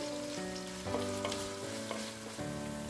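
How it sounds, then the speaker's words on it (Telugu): Sliced onions fry in oil for chicken fry dum biryani, making a continuous close sizzle with a few soft stirring knocks and a low, steady tonal hum underneath. "ఉల్లిపాయ ముక్కల్ని కాస్త లైట్ గోల్డెన్ కలర్లో వచ్చే వరకు కూడా ఫ్రై చేసుకుందాము"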